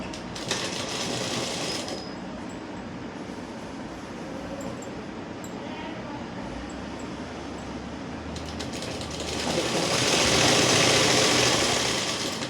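A sewing machine stitches a salwar seam along the middle join, a loud, steady motor whir with rapid needle chatter that runs continuously and swells near the end.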